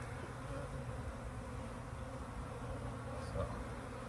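Honeybees from a breeder colony hum densely and continuously close by on a brood frame, a steady even buzz with no pauses.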